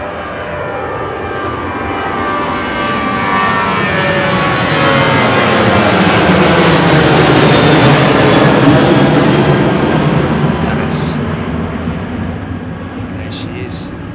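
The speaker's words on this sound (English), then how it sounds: "You're going to see that MD-11 rolling out any second." A McDonnell Douglas MD-11 jet rolls out at Anchorage airport, its engines a loud, broad roar that swells to a peak and eases, heard close and continuous throughout.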